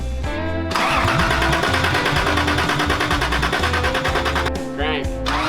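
Toyota Land Cruiser engine cranking on a start attempt after an ECU hookup, a steady loud rhythmic starter churn running for several seconds before cutting out, with a brief voice near the end.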